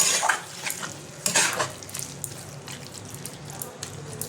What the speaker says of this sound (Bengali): চিকেনটা আমি ভালো করে এবার কষিয়ে নেবো, আস্তে আস্তে এটা কষিয়ে নেবো